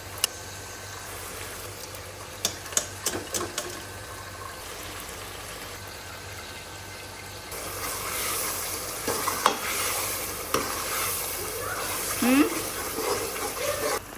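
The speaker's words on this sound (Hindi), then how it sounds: "मसाला फ्राई हो गया, अब इसके अंदर हम रेड लोबिया डालते हैं" Boiled red kidney beans sizzle as they fry in masala in a pan while a spoon stirs and clatters, the frying growing louder partway through; a voice speaks softly underneath.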